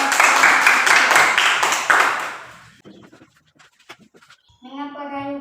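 Brief group applause for a class in an Indonesian classroom: loud clapping fades over about three seconds, followed by scattered taps and quiet, then a voice starts speaking.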